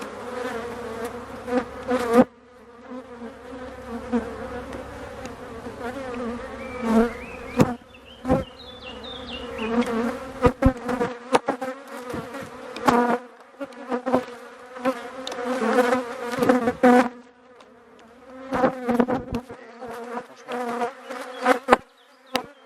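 A dense, steady buzz of many honeybees swarming close around an open beehive in poor condition, with louder surges as insects pass near and a few sharp knocks and clicks of hive handling.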